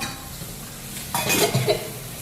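Potatoes being stirred into hot tempering in a pan for a methi aloo dish, a brief scraping and sizzling burst after a quiet start, close and moderately loud.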